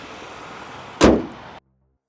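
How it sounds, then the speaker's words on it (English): The hood of a Hyundai Palisade Hybrid SUV slams shut in one loud, sharp thud over faint background hiss, followed by silence. "So let's close up the hood."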